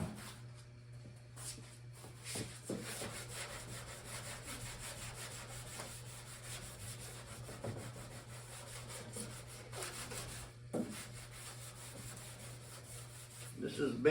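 A small piece of carpet rubbed back and forth over fresh paint on a 1976 classic car under restoration, giving a steady, close scratchy swishing with soft repeated strokes and faint background hum.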